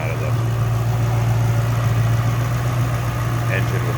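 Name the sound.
2007 Ford Mustang Roush 427R engine idling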